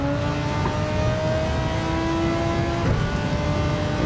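Race car engines whine through the Spa circuit in Gran Turismo 7, a steady, close, high-pitched motor tone that shifts pitch as gears change, with no voices.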